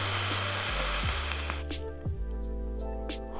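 Air rushes through the airflow holes of a Wotofo Recurve vape atomizer in a steady close hiss, with low hum bands shifting in pitch in a few steps as the draw changes.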